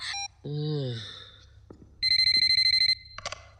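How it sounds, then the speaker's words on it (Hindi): A ringtone plays from a phone at home: a melodic electronic tone, a falling chime, then a run of rapid repeated beeps, with brief sounds between the parts and no talk. "संजू, फोन उठाओ, मैं जानती हूँ तुम घर पे हो."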